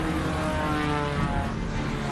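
Propeller engines of Allied World War II aircraft drone in a loud, continuous, rough roar that holds steady throughout, with no other sound over it.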